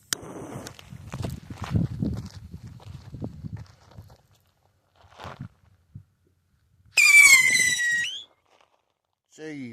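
A backyard firework screams as it launches, a loud, piercing whistle about a second long that falls slightly in pitch, preceded by rustling and handling noises and followed by silence and a faint second whistle.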